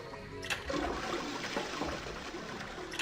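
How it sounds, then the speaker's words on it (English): A toilet flushes loudly in the video game 999, a continuous rushing, gurgling wash of water that fills the whole moment with no voices over it. "I heard a loud flushing noise."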